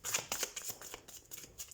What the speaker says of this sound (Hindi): हम कार्ड शफल कर लेते हैं